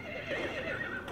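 A horse neighs in the video game Battlefield 1, a sustained, wavering whinny heard fairly loud over a steady game background.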